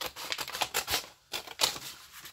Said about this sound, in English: So we'll just cut along here